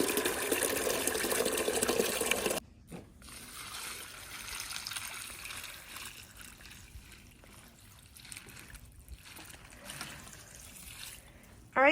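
Water from a tap runs steadily into a bucket to soak bags indoors, a loud rush for the first couple of seconds, then a quieter ongoing trickle and fill.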